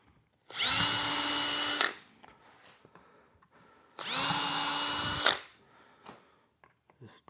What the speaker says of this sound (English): I'm gonna drill holes through each one.